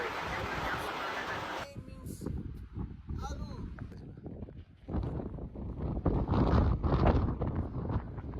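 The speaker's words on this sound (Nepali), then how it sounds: "यस्तो हावा चलिरहेछ।" Strong wind blows across an open hilltop at Sandakpur, roaring loudly at the start and again later in rough gusts, with people talking in between.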